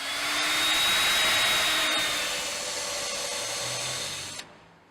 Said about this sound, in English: The router requires either a 12mm cutter and 18mm guide bush combination